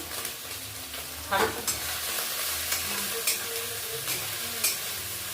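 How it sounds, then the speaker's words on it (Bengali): Chopped tomatoes frying and being stirred in a pan of garlic-fried oil while cooking a lobster curry, a steady close sizzle with spatula scrapes and a few sharper clatters, no talking. "এইবার এটা রসুনটা ভাজা হয়ে গেছে, এতে টমেটো কুচি দিয়ে দিচ্ছি দুখানা"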